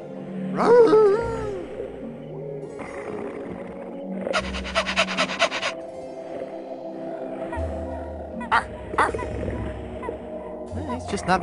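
A smelly old dog in the Monkey Island 3 video game pants and whimpers in short bursts, mixed with game music and other effects.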